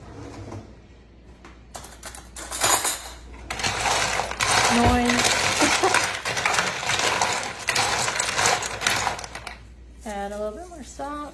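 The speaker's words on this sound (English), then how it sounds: "then you're gonna put the ice in a big bowl" Ice cubes and salt stirred together in a big bowl while making ice cream in a bag, giving a steady close rattle and clatter of ice that runs through most of the clip, with a voice heard near the end.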